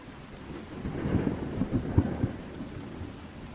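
A thunderstorm with rain, low thunder rumbling softly and swelling in the middle over a steady patter of rain, fairly faint and alone.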